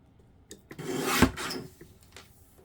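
Paper being cut for a hardcover activity notebook, a single rasping slice lasting about a second with a few small scrapes and clicks around it, close and fairly quiet, no speech.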